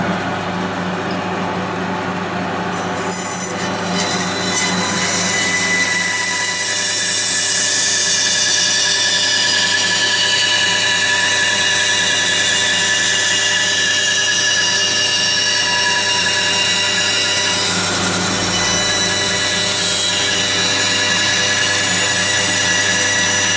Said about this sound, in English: what I'm doing now is cutting that shape out, which is the outside shape of the leg, on this machine, which is a bandsaw